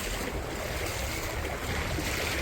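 Seawater surging into a house on the coast at Chellanam, a steady, close rushing roar of churning water that continues without a break and with no voices.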